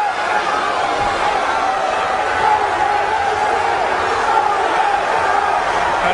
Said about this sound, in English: he certainly has this Boston Garden crowd behind him. They're cheering on the hometown favorite